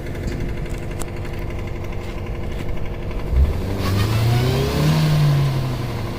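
Maruti Brezza engine rising into a loud rev with a climbing pitch, accelerating hard over rough off-road ground on a high mountain track, steady drive noise throughout.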